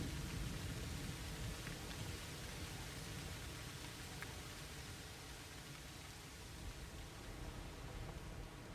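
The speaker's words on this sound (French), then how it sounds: "Sous les orages violents qui montent des grands lacs, les vents tournent et entraînent les fumées sur la forêt." Rain falls in a violent storm rising off the Great Lakes near volcanic country, a steady dense hiss of downpour, faint and even throughout without a break.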